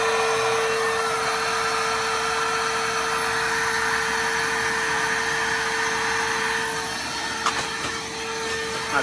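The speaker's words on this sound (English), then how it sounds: "Might be kind of loud over there by the pump" An automatic electric pump inflates a Vevor inflatable camping cot, a loud, steady mechanical drone with a constant hum that holds throughout and dips slightly near the end.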